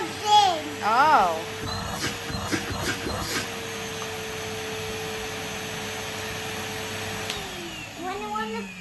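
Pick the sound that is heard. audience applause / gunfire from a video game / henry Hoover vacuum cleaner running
henry Hoover vacuum cleaner running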